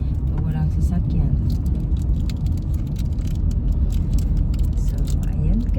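A car rolls slowly along a road at about 33 to 40, its low engine and road rumble continuous and close, with a voice speaking over it throughout.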